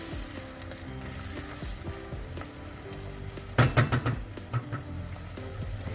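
Onions fry in a pan toward light golden with a steady, close sizzle, and a short burst of clattering knocks from a utensil near the middle, with no talking.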